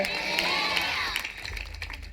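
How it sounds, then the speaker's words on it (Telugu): A church congregation clapping loudly together, a dense steady wash of applause with a few voices mixed in, close and continuous throughout. "చప్పట్లు కొట్టండి గట్టిగా"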